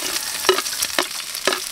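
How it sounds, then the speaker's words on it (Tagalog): Chili, garlic, ginger and onion sautéing in a pan give a steady close sizzle with three quick stirring scrapes spaced about half a second apart. "magigisa muna tayo. Unahin natin tong sili. Yan. Tapos bawang. Luya."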